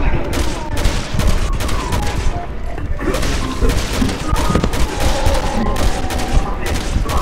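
Heavy gunfire in Resident Evil 6 co-op play, a loud, continuous barrage of overlapping shots and thuds with scattered louder bursts throughout.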